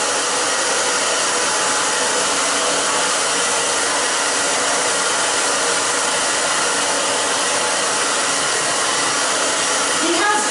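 A hair dryer blows on a man's short gelled hair, a loud, close, steady roaring whoosh that holds unbroken for the whole stretch with no voices over it.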